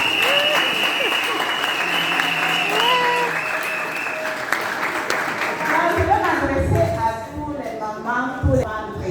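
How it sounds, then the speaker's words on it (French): A French-speaking audience applauds a question in a dense burst of clapping that fills the first several seconds, then thins out as voices and talking take over. "Est-ce qu'on va applaudir cette question?"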